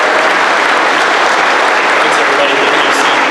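An audience at an awards and scholarship night gives loud, sustained applause for academic excellence students, a thick continuous roar of many hands close by with no break.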